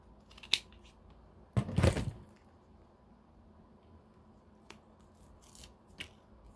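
Scissors cutting a sneaker sole shield for Jordan 1s in half: a brief, crisp snipping crunch, with a few faint clicks and rustles around it in a quiet room.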